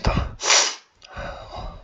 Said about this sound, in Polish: Musiałem sobie smarkać nos.